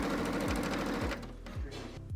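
A sewing machine stitches a strap onto a denim dress, running in a fast steady mechanical whir with periodic thumping needle beats, close and moderately loud, then slowing briefly near the end.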